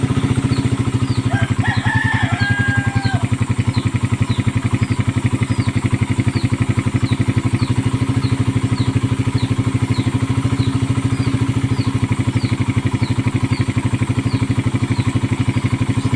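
Motorcycle engine idling on a 28mm Keihin carburetor with a freshly refreshed manifold, a steady close throbbing putter that runs unbroken, while a rooster crows faintly in the background.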